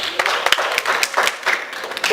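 An audience at a personal branding workshop claps for a pair of participants, a short burst of scattered handclaps close by, mixed with talking.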